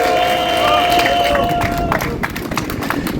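An outdoor protest crowd gathered about election fraud applauds and cheers, a steady wash of clapping and murmuring voices with a sustained tone running through the first two seconds.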